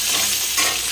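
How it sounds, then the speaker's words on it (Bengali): Potatoes frying in hot oil for a chicken curry, a dense, continuous close sizzle and hiss that stays loud and even throughout. "দেখতে পাচ্ছ এখন আলু ভাজা চলছে"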